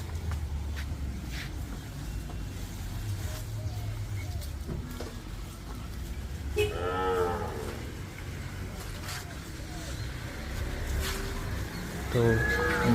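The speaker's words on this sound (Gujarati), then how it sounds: "તો હવે મમ્મી પણ ગાયને ખવડાવવા માટે" A cow moos twice while being fed at home after a temple trip, the calls mid-distance over steady outdoor background noise with occasional people talking.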